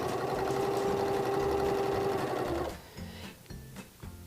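Sewing machine running steadily while chain piecing quilt triangles with a 1/4 inch seam, a loud continuous whir for about two and a half seconds that stops abruptly, followed by quieter handling clicks and fabric rustles.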